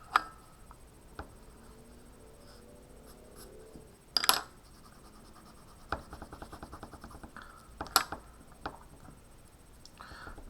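Charcoal is drawn across paper to define a line in an eye study, with soft scratchy strokes, quiet rubbing and a few sharper taps and clicks, close and faint, with no talking.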